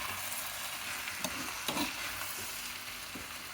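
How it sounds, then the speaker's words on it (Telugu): Wheat rava fries with tempering spices in a pan, a steady close sizzle with a few soft stirring scrapes and taps, no voices. "గోధుమ రవ్వ కూడా ఈ తాళింపులతో పాటు వేయించుకోవాలన్నమాట."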